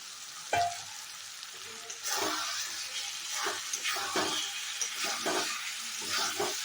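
Fried chicken pieces stirred into sizzling oil in a pan for a Bengali curd chicken curry give a sudden close hiss of frying, broken by several scraping stirs; there is no speech.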